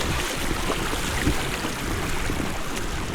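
A small waterfall in a woodland creek, steady broadband rushing and splashing water heard up close, continuous and fairly loud with no speech.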